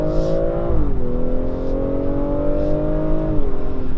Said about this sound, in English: hopefully you can hear the exhaust popping a little bit too